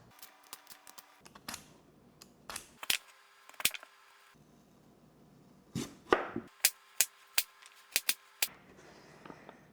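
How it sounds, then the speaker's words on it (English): Sharp knife chops on a cutting board as sweet potatoes are peeled and chopped, in irregular bursts, with quieter scraping between them and a quick run of close, crisp cuts toward the end. "we're going to get our sweet potatoes peeled and chopped."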